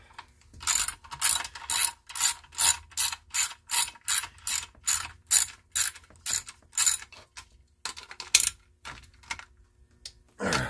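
A ratchet wrench snugs down a 7/16 bolt on an old lawnmower engine, giving a long run of steady, evenly spaced ratcheting clicks up close, then a short pause and a few more bursts, with no talk.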